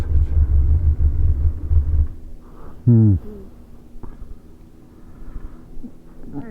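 A Kawasaki ZZR 1100 motorcycle engine, still faulty after a hydrostatic lock, rumbles low and steady at close range, then gives one short, sharp rev that quickly falls back to a rough idle.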